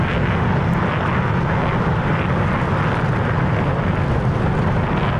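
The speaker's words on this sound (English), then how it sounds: "24 MiG-29 KRs taking off from the improved Kuznetsov" Two dozen MiG-29KR jets take off from an upgraded Kuznetsov carrier in the DCS combat flight simulator, filling the clip with a steady, loud, dense jet-engine roar that never lets up.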